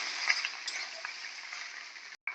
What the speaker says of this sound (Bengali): ভাতটা দিয়ে ভালো করে এইভাবে নাড়াচাড়া করবো।